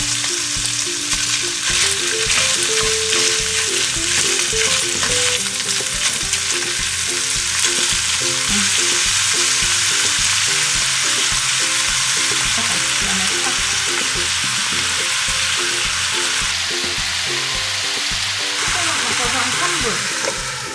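Thinly sliced pork belly and onion stir-fried over high heat, a loud, dense sizzle that runs on throughout, with repeated scraping and tossing of a utensil in the pan and a faint tonal layer in the background.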